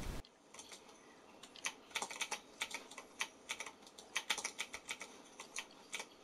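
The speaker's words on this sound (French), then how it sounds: "si vous entendez des bruits, c'est mon clavier" Rapid clicking of a very noisy computer keyboard, close and crisp, in irregular bursts of keystrokes with short pauses, alone without speech.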